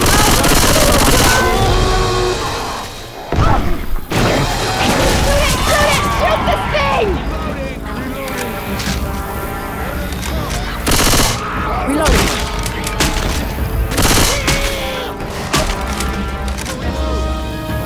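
Gunfire in Left 4 Dead 2 on Xbox 360, with dense bursts of rapid shots and loud bangs over chaotic game noise, while players shout over it.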